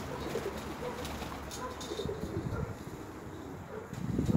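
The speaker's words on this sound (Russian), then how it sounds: "голубка стоит" Outdoors, a pigeon coos faintly against steady background noise and wind rumble, with a few soft, brief calls scattered through.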